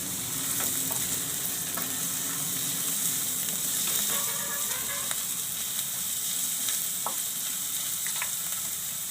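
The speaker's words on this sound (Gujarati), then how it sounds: "તો હવે આપણે ડુંગળી નાખી દેવું." Finely chopped onion frying in a pan, a steady bright sizzle running throughout with a few soft stirring scrapes, no voices.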